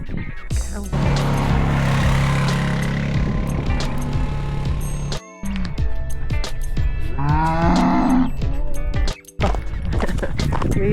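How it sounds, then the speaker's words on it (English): A cow moos in the Peak District countryside near Castleton and Mam Tor, a fairly close, drawn-out low call heard amid outdoor wind noise and rustling. "Cow."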